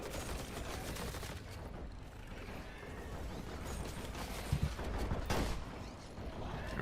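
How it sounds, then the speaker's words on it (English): Boomstick shotgun firing in a video game, heard as a few booming blasts around the middle of a dense, continuous wash of gunfire and game noise. "the boomstick, like, it sounds fine, but it sounds a little like a stock sound effect"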